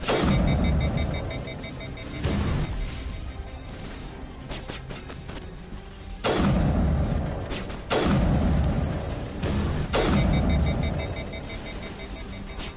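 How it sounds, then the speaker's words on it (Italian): Loud bursts of gunfire and booming blasts in the video game Mass Effect arrive in several heavy volleys, with rumbling quieter stretches between them. "loro sparano da lì, io sparo da qui."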